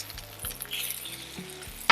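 Bacon is slid across a hot Blackstone griddle with a spatula, giving a faint steady sizzle with a few low scraping strokes and a sharp metallic clink at the very end.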